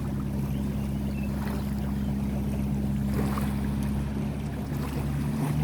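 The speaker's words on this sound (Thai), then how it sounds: "เรือวิ่งไปแบบช้าๆเนาะ" Tour boat cruising slowly on the river around Ayutthaya island, Thailand, a tug towing three pontoon boats; a steady low engine drone with water wash runs continuously and fairly close, with no talk.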